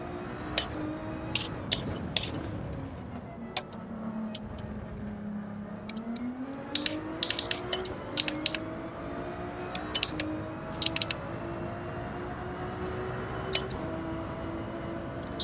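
Ferrari 296 engine in Gran Turismo 7, a continuous droning note that dips and then climbs with revs as the car is driven, punctuated by short clicks and tyre sounds, at moderate level with no talking.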